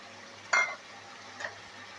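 Raw chicken pieces, cut and washed, drop into a pan of spices for chicken biryani, giving a brief sizzle and stirring scrape, then a second softer clatter against a low steady hum.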